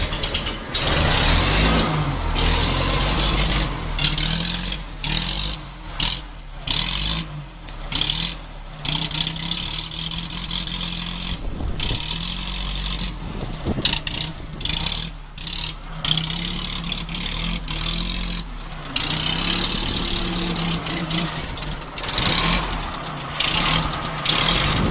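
A 1924 Bullnose Morris Cowley's engine idles steadily and close by as the car backs out of a garage, a continuous low running note broken by brief rubbing and mechanical knocks.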